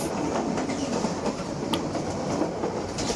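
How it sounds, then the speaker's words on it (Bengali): The Sundarban Express, Dhaka to Khulna, thunders past a halted Sagardari Express, a dense continuous roar of wheels and carriages with steady clickety-clack, close and loud the whole time. "আমাদের সাগরদাড়ি এক্সপ্রেস বসিয়ে রেখে ওটি দিচ্ছে হচ্ছে বাংলাদেশের আরেক জনপ্রিয় ট্রেন সুন্দরবন এক্সপ্রেস"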